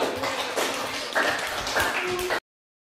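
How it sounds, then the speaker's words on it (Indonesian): Students applaud in a vocational school classroom, a dense patter of clapping that runs steadily for about two seconds before cutting off, with faint voices mixed in. "tepuk tangan teman-teman yang benar semua"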